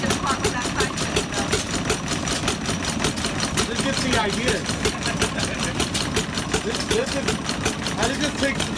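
Home-built antique engine at an engine show in Granby, Connecticut, running with a steady rapid chugging beat, close and loud, while people talk over it.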